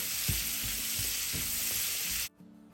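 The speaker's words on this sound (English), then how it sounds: "Cook these on medium flame for 20 minutes until they become light brown and crispy" Chopped bitter gourd (karela) with turmeric and salt fries in a pan on medium flame, a dense close sizzle with a few soft stirring knocks, cutting off abruptly to near silence at the end.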